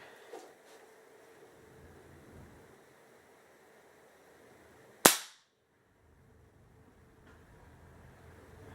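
A single sharp BB airgun shot cracks out loud and close, decaying quickly over a quiet indoor background.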